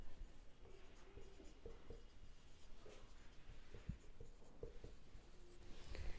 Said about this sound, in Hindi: इधर लिख देते हैं आराम से।